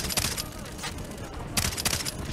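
Gunfire in the Far Cry 3 co-op firefight, with bursts of rapid automatic shots from a machine gun that come in dense clusters, sharp and loud, amid the battle noise.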